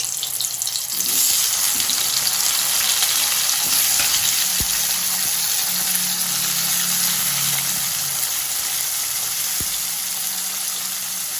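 Bitter gourd (karela) pieces rubbed with salt and turmeric fry in a pan, giving a loud, dense and continuous sizzle up close, with a couple of faint knocks underneath.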